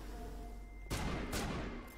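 Gunfire from Mass Effect 1 combat: two quick, sharp bursts of shots ring out over a quiet background, moderately distant and fairly faint.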